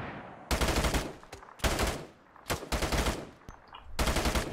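Incoming automatic gunfire in a military video game arrives in four loud, dense bursts, each about half a second long and separated by brief quiet gaps, with a few sharp single cracks in between.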